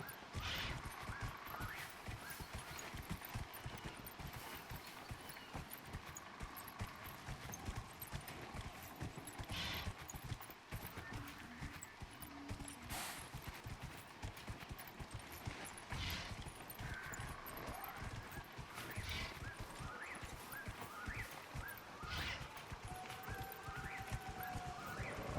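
Horse hooves clip-clop steadily through a Dragon Age: Inquisition game scene, moderately loud and continuous over ambient wind and occasional bird caws, with a faint whinny.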